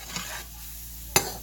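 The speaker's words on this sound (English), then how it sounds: "Stir that on in there" Mushroom gravy mix from McCormick being stirred in a pan over a faint sizzle, with a soft scrape early on and one sharp utensil clack near the end.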